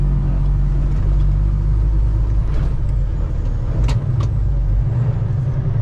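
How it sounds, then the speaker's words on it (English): A semi truck engine idles at high RPM during a regeneration cycle at a truck stop, a loud, steady, continuous rumble with a few brief hissy bursts over it. "my truck is trying to do a regen or something"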